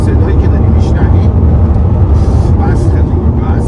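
A naturally aspirated BMW 630i coupe accelerates with a steady, smooth engine drone heard from inside the cabin, while someone talks over it the whole time.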